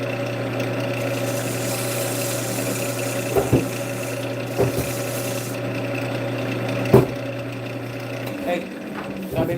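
A wood turning lathe spins as a piece of wood is shaped, a steady motor hum with a rasping scrape of the tool and a few knocks, ending as the machine slows near the end.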